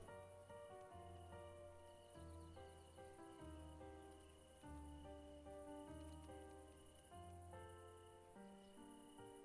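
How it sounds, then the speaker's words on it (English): Dense, steady cricket chirping fills a night scene in a city-building video game, with layered insect trills. A sustained musical tone hums underneath throughout. "Lots of crickets, lots of critters, it sounds like."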